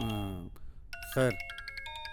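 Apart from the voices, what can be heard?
phone ringtone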